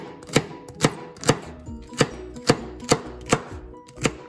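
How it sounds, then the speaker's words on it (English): Two celery stalks chopped with a knife on a cutting board for a slow-cooked beef stew, nine sharp, evenly spaced chops about half a second apart, close and crisp with no voices. "we're going to cut two celery stalks. So you slice it down the middle and then just chop."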